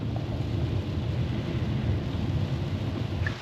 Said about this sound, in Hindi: बारिश अभी भी रुकी नहीं है, ख़तरनाक बारिश है